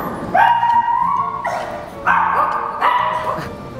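Puppies at an obedience training session yelp and whine in three or four loud, near, drawn-out bursts with rising, howl-like tones.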